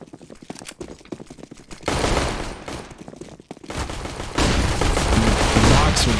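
Pistol-round gunfire in the video game Counter-Strike on the Anubis map, bursts of loud shots and dense crackling fire with footsteps and game noise, building to a heavy sustained barrage toward the end.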